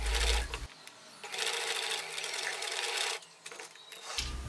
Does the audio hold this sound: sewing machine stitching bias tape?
yes